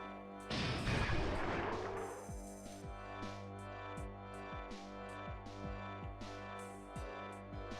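A bomb explodes in the video game Alundra, one loud burst with a crashing rumble that fades over about two seconds, followed by repeated short thuds and chirping game effects over background music.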